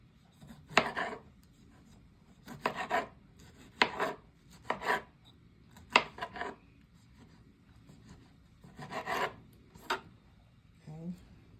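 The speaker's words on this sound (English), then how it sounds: "I'm gonna slice up my tomatoes" A kitchen knife slices through tomatoes while cooking Jamaican curry goat, giving about nine crisp, irregular cutting strokes spaced by short pauses, close and moderately loud.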